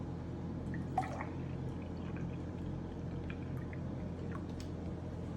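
A cup of whole milk poured into pie filling after two eggs, a soft, quiet liquid pour with a faint splashing drip near the start.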